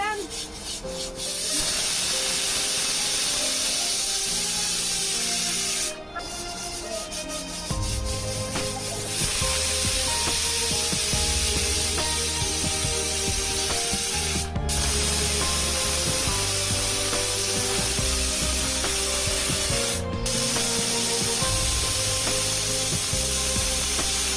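A pressure cooker cooking meat vents steam in a loud, continuous hissing whistle that holds steady with a few brief dips, close by and with no voices over it.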